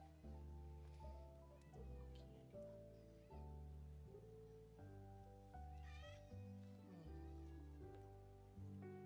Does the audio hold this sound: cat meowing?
yes